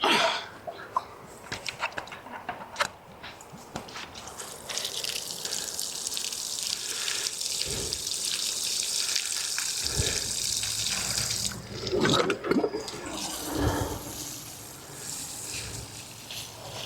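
Water pours steadily from a hose or can onto a garden bed for several seconds, a continuous splashing hiss, with a few brief knocks and shuffles before and after and no talk.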